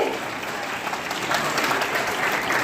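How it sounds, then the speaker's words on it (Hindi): Audience applause welcoming a guest at a school event, a continuous full burst of clapping from a crowd, fairly loud and steady throughout, with a faint murmur of voices beneath. "जोरदार तालियों के साथ सर का स्वागत है"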